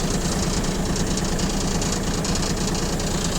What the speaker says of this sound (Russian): Работает двигатель очень ровно.